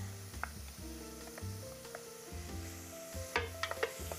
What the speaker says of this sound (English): Saute that a little bit.